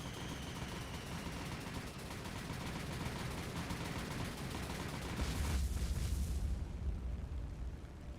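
Bombs hit ships in the naval game War on the Sea. A constant low rumble of battle noise runs throughout, with a muffled, heavier boom swelling about two thirds of the way through before fading back.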